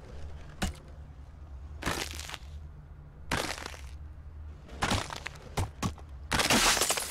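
Ice cubes break off a player's feet in a parkour and puzzle escape maze game, heard as separate bursts of cracking and crunching, like ice shattering, spaced every second or so over a low steady hum.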